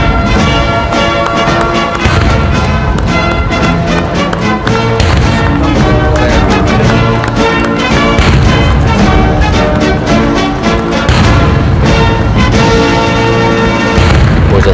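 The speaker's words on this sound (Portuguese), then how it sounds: "E há os 21 tiros." A 21-gun salute at a presidential inauguration booms out in a long series of loud, evenly spaced cannon shots that echo across the ceremony grounds, with no voices between them.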